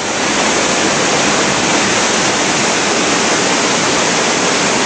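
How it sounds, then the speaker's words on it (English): A creek swollen with rainwater roars in a loud, continuous broadband rush, steady and close with no pauses or voices over it. "The creek is just roaring right now."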